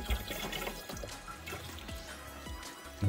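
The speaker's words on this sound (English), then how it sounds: "The water started coming out slowly. I can hear it." Water trickling from a Costco Brondell Circle reverse osmosis filter into its storage tank, a faint, steady trickle with scattered soft drips in a quiet room, with no speech.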